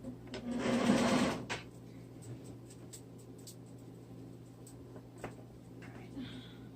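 A sewing machine stitches felt for a fall-leaves tote and pillow in one loud, close burst of about a second, then falls quiet with only faint background noise.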